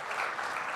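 Church congregation applauding, a dense, even wash of many hands clapping that stays steady throughout and sounds moderately distant.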